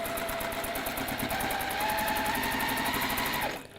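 A sewing machine runs steadily while stitching a quarter-inch fabric seam, its fast even rattle of needle strokes carrying close and continuous until it stops abruptly near the end.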